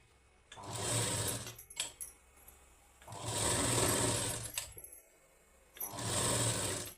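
A sewing machine stitching blouse sleeves runs in three loud, steady whirring bursts separated by short pauses with small clicks of fabric handling, no talking.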